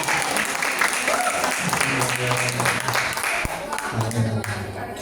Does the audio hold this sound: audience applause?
yes